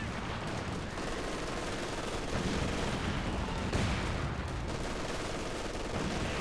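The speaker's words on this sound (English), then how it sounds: "There's quite a bit of indirect fire. We've got 2 mortars." Dense wartime battle in Company of Heroes 2, with two mortars and other indirect fire landing amid continuous gunfire, a steady, busy barrage of thuds and shots with no single dominant blast.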